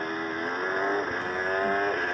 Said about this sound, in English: Oh, and it's even got authentic engine sound.